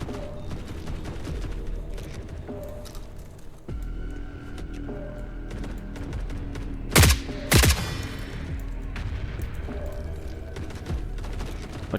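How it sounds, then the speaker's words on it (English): Grenade launcher shots in the shooter game The Forever Winter, two loud, sharp bursts standing out over continuous distant battle rumble and scattered gunfire. "I can hear grenade launcher shots going off."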